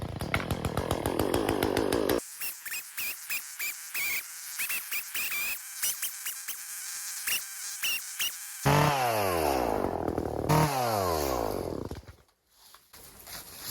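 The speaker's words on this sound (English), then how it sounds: "The bigger ones have to come down with a chainsaw." A chainsaw revs and cuts through logs during land clearing, with loud bursts of engine whine, pauses and pitch sweeps as the throttle rises and falls.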